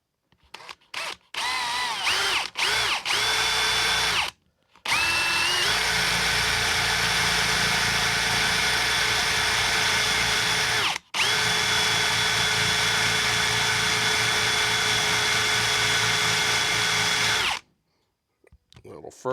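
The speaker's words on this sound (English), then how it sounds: "just start drilling." A power drill whines steadily in long sustained runs while boring a hole in wood for a woodturned gnome, briefly stopping and restarting, with short bursts at the start; close and loud.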